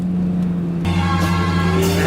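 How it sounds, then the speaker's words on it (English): A car engine drones at steady pitch on a race track during a Corvette Z06 track day, then a louder, brighter engine surges in close as another race car draws alongside to pass; no voices. "the car's going to pass us on the right"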